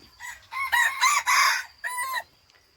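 A fighting cock crows nearby in the forest: one loud, harmonic cock-a-doodle-doo in several rising and falling segments, with a short final phrase trailing off into quiet.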